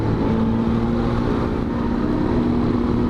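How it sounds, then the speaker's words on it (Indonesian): A small single-cylinder motorcycle engine with a loud open aftermarket exhaust runs steadily and close, a constant low throbbing drone with no speech. "Ini motor kecil, single cylinder."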